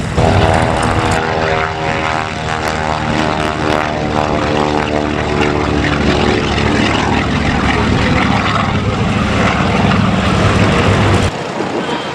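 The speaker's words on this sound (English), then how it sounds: "the strange sound, well, very muffled sound of these Mercury engines." Bristol Mercury radial aircraft engines drone loudly and continuously with a deep, throbbing propeller hum at an airshow, then cut off suddenly near the end.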